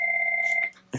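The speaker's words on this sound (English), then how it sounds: "There's the phone." A telephone rings with a steady electronic tone for about half a second, then the ring stops and a brief burst of other sound follows.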